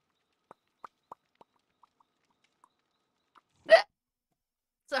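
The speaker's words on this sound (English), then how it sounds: "Hiccups for days." A person hiccups during a horror-game session: a run of tiny, soft catches at uneven intervals, then two sharper, louder vocal hiccup bursts close to the microphone.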